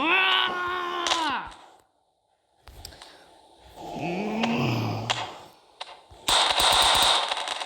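Automatic gunfire bursts from a video game, separated by gaps and mixed with other game sounds, a pitched synthetic tone and a sweeping effect, ending in a loud dense burst of shots near the close.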